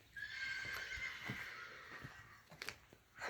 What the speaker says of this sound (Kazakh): Бақуат жылқы екен.